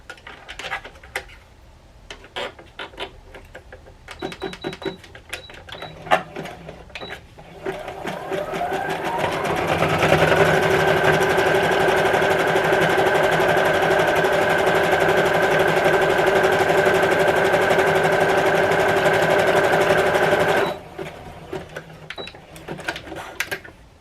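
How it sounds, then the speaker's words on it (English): Sewing machine running a zigzag stitch along the short edge of a skirt waistband: a few short clicking bursts, then a steady whirring, rattling run of about ten seconds, and a few more clicks after it stops. "I'm going to first take the short edge of my waistband and sew it together using a zigzag stitch"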